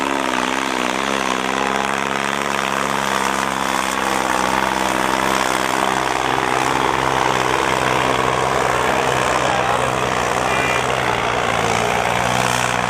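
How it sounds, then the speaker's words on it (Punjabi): A tractor engine runs at a village rural sports fair in Aklapur, a loud steady droning rumble with strong tonal harmonics that shift slightly as it pulls, close by and continuous. "ਬਹੁਤ ਵਧੀਆ ਟਰੈਕਟਰ ਆਪਣੀ ਮੰਜ਼ਿਲ ਵੱਲ ਵੱਧ ਗਿਆ"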